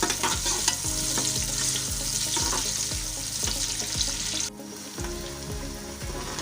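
A medium-sized onion frying in hot oil for matar pulao gives a steady, loud sizzle. Regular scraping strokes of stirring repeat about once a second throughout, with no voices.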